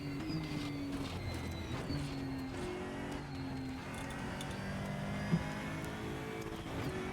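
An Aquilla CR1 race car engine in the Raceroom sim at Monza holds a steady, high-revving drone with shifting harmonic pitch, broken by quick upshift steps across several seconds.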